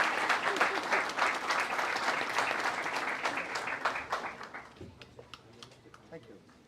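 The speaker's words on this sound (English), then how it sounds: "give a big round of applause." Dense audience applause at a youth programme event fills the room, steady at first and then thinning and fading out, with a voice emerging as it dies down.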